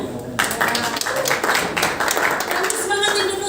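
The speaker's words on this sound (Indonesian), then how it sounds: "Tepuk tangan" Audience clapping at an Indonesian Independence Day church service, starting abruptly after a brief quiet moment and continuing as a dense, moderately loud burst, with voices and faint tones mixed in underneath.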